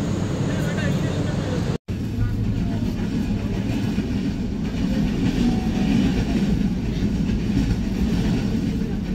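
Silkcity Express train entering Mirzapur railway station in Bangladesh, a continuous close rumble of wheels on track with a brief dropout near the start, while someone narrates over it.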